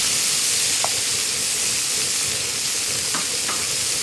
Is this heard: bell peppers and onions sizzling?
yes